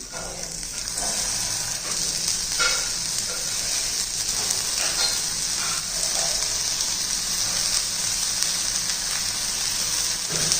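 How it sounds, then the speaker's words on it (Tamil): A chicken cutlet sizzles on a hot dosa tawa with a loud, steady frying hiss that holds evenly throughout, broken by a few faint clicks and taps. "இப்போ இதை எடுத்து நம்ம தோசை தவாவில் வச்சுருவோம்"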